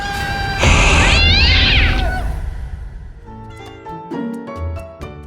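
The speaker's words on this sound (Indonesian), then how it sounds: "kalau ada kucing hitam gini, memang tanda-tandanya agak angker, ucap John sambil ingin kabur." A black cat meows in a drawn-out, wavering cry near the start, loud and close, followed by shorter tonal sounds and some background noise.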